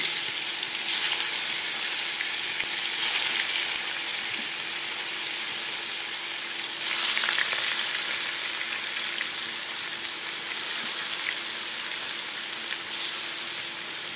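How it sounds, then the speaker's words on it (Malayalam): Chicken pieces fry in hot oil for chicken kondattam, a steady close sizzle with bursts of crackling and no talk. "ഈ എണ്ണയിലേക്ക് തന്നെ നമുക്ക് ചിക്കൻ വറുക്കാം കേട്ടോ"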